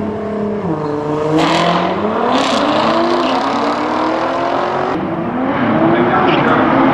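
Corvette and GTR muscle-car-versus-supercar drag race, loud engines revving and rising through gears with whirring acceleration, continuous and close throughout.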